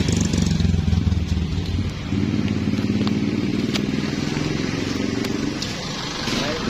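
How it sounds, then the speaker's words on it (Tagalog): A motorcycle engine that is running short of air keeps up a steady, chugging drone close by, with rattly mechanical clatter over the top and a brief dip partway through. "Yung motor ko."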